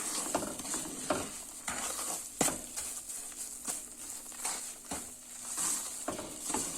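Flour roasts in a pan for helva, a soft dry sizzle under repeated scraping strokes of a spoon against the metal, close and fairly quiet, with an occasional sharper clink.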